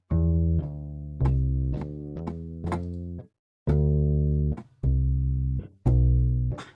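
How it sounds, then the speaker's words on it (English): Deep plucked bass notes from an Impact Soundworks Shreddage E-Upright electric upright bass sample library, warm in tone, played in a short phrase of separate notes with small gaps. "what you're hearing is the E-Upright bass"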